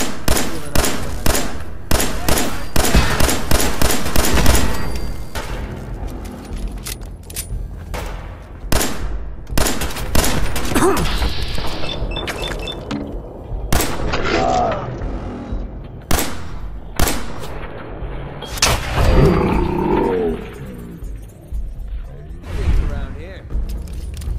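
Fallout 4 video game combat as a 10mm pistol fires at feral ghouls: rapid, sharp shots come in dense bursts early, then sparser cracks, mixed with game noises and voices.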